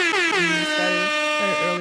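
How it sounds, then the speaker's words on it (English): A blaring air horn sound effect sounds in a casual talk show about couples' finances, one loud, close, continuous blast lasting nearly two seconds with a rhythmic warble in its pitch and no talking over it. "Yes, that deserves an air horn."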